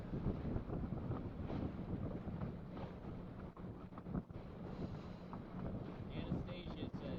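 Strong wind gusts buffet the microphone during a vintage Gold Cup sailing race on the water, a steady loud roar with surging puffs throughout and no talk.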